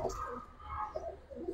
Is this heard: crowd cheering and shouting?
no